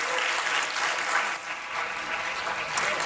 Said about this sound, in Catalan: Els podeu aplaudir, això està molt bé.